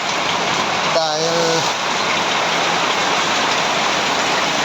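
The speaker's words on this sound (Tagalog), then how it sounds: "Ang lakas ng kidlat, ang lakas ng ulan." Heavy rain pours down at night during a thunderstorm, a dense, loud, continuous hiss close by, with a voice speaking briefly over it.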